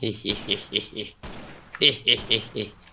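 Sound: gunfire in the video game Minecraft

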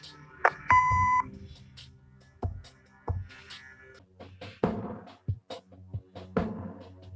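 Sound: answering machine beep in Kathy Rain video game

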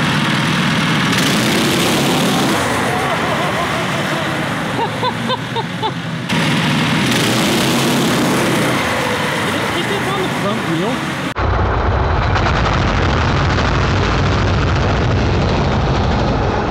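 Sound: AWD kart engine running

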